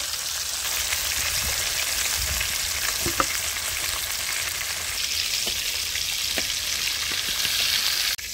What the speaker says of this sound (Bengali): দেখুন দারুণ করে ভাজা হয়ে গেছে আমাদের চিকেন।